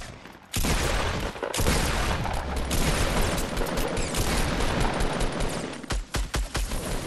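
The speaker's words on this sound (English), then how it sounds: "We're getting shot from that base way back there." Sustained rapid-fire gunfire in a Fortnite Battle Royale match, a dense loud barrage of automatic shots that drops into separate bursts near the end, with no talking.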